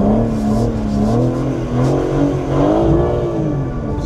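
A car drifting sideways with its engine held high, a loud, close, steady revving drone that rises and dips slightly through the slide, with no voices over it.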